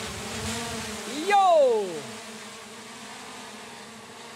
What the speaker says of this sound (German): die Anwendungsgebiete von Drohnen. Die lassen wir jetzt mal starten.